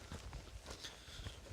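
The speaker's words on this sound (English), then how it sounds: "the shelter was surrounded by little horses" Faint hooves of small horses clop softly around a trail shelter in the Appalachian woods, uneven steps close by in a quiet outdoor setting.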